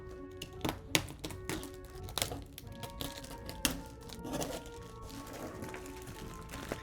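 Packaging being cut off a Halloween animatronic's box: a quiet, busy run of clicks, taps, thunks and plastic crinkling at close range, with no talking.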